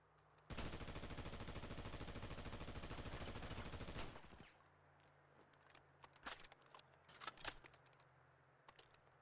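Wireframe gun firing in GTA 5: a fast, loud automatic burst of rapid evenly spaced shots lasting several seconds, then scattered single impacts and game noise afterward.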